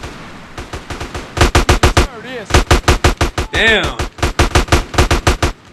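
Rapid, evenly spaced bursts of automatic gunfire from GTA San Andreas, loud and close, broken by short pauses where a voice speaks briefly.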